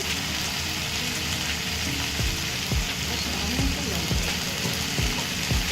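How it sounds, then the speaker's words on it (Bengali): Fish curry masala with salt and turmeric sautéing in a pan gives a loud, steady, hissing sizzle throughout, with occasional scraping stirs underneath and no voices. "আবারও ভালো করে এটা কষিয়ে নিতে হবে"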